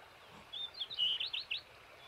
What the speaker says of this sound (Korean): 이 새소리 참으로 곱기도 곱다.